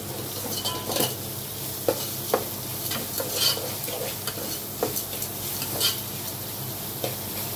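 A spoon stirs egg semiya in a hot frying pan, giving soft steady scraping and occasional light knocks against the pan over a continuous low sizzle, close and fairly quiet.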